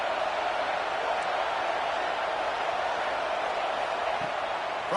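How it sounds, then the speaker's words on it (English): A big college football stadium crowd in Happy Valley roars on third down, a loud, sustained wash of crowd noise that holds for several seconds. "Here comes the noise from this big crowd in Happy Valley on 3rd down."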